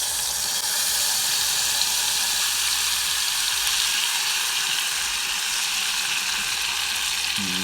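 Seafood sizzles steadily in a pot as it fries down for a Jamaican-style seafood boil, a loud, constant crackling hiss with no pause and no voices.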